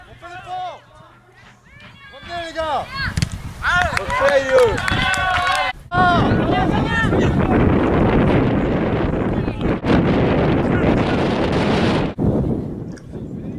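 Strong, steady wind roaring across the microphone during an outdoor match, with a voice talking over the first few seconds before the gusts take over.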